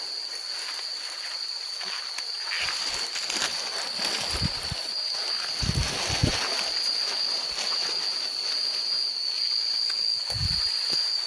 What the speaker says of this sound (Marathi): रातकिड्यांचा आवाज आहे सध्या